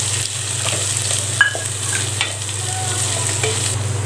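Grated coconut stirred into frying onions in a pan for parotta salna, a steady close sizzle with scraping spoon strokes and a sharp clink partway through, no voices.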